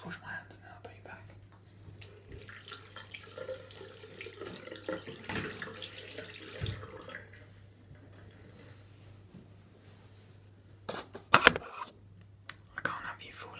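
A bathroom tap runs while hands are washed, a soft, steady water flow under quiet whispering, followed by a few sharp clinks and knocks near the end.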